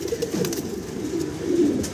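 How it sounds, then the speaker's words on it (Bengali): A Muraseel pigeon coos softly and repeatedly nearby, low rolling calls over faint background noise. "জিরো ফেদারের বাচ্চা মুরাসেল কবুতর দেখতে পারতেছেন"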